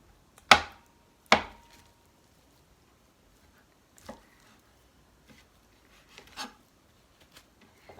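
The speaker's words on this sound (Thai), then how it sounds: "หลังจากที่หั่นไก่เสร็จ" Two sharp knife strikes on a cutting board close by while slicing raw chicken, followed by quieter scattered taps and soft cutting sounds with long gaps.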